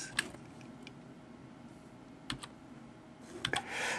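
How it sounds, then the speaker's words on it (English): Keys tapped on a computer keyboard while searching for a program in a Windows menu: a few scattered, quiet clicks, a short burst of taps near the end, over a faint steady room hum. "just typing SIB in mine actually brings up two links to Sibelius 7 and Sibelius 7 32-bit"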